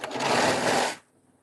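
A Baby Lock serger sews an elastic waistband for yoga harem pants in one loud, close burst of fast whirring that stops abruptly after about a second, with no talking.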